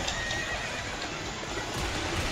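A horse neighs in the video game Dynasty Warriors 8 over a steady wash of background noise, with faint hoofbeats mixed in.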